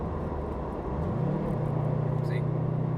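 A modified Subaru WRX STI downshifts from sixth to fifth gear while cruising. The steady low engine drone climbs in pitch as the revs rise, then settles at the higher hum, with a brief faint whistle-like tone.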